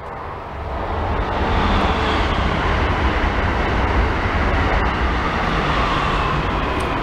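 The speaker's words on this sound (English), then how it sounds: "Here comes the train, hold on." A train rolls past close by in a steady, loud, broadband roar that builds over the first second and then holds for several seconds. A Chevrolet S10 pickup with its distributor one tooth off, missing with a small pop, idles alongside.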